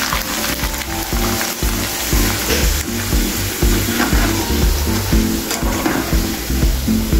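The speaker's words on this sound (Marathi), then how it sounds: "आता आपण थोडे थोडे मक्याचे पोहे टाकून तळून घेऊया।" Maize poha (corn flakes) frying in hot oil for a crisp corn chivda, a steady, loud, close sizzle and bubbling that continues throughout with no talking.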